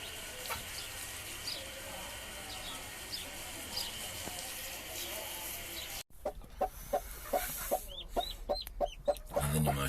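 Chickens in a home coop give a rhythmic series of soft, close clucks in the second half, after a stretch of quieter background bird calls and low rustling.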